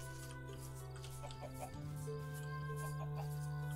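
Minecraft chickens make faint clucks and chirps, a few soft, scattered calls over a steady background music bed. No one is talking.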